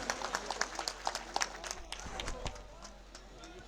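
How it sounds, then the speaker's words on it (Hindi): Crowd clapping at a Prajapati community gathering in Taranagar welcoming Rajendra Rathore, sharp irregular claps early that thin into a softer, fading patter, fairly quiet and distant. "जोरदार तालियों से इनका स्वागत"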